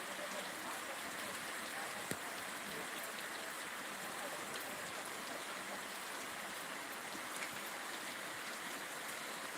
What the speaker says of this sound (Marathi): थोडासा पावसाचा जोर आता जरा ओसरलेला आहे